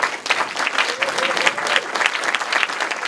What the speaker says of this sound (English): do you want to just stand up and we can give you a round of applause?